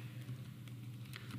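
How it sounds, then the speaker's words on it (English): Typing on a computer keyboard while working in a Microsoft Excel spreadsheet: a short run of quiet, scattered key clicks over a steady low hum, with no talking. "So I can type,"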